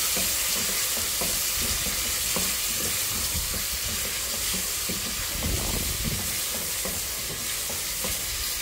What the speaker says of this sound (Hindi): लहसुन अदरक में मैं चिकन की अच्छी तरीके से भुनाई कर लूँगी।